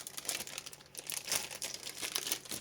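Plastic packaging crinkles and rustles as an MSI Z790 S WIFI motherboard is pulled out of its bag, with continuous close crackling and small crunches.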